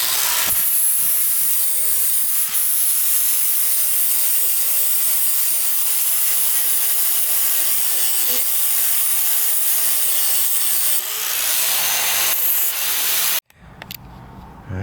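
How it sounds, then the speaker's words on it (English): A grinder works steadily across the back of a steel motor mount for an LS 5.3 engine swap, a loud continuous abrasive whine and hiss that cuts off abruptly near the end, with no talking. "continue on with grinding the back of the motor mount so we can get a good clean weld"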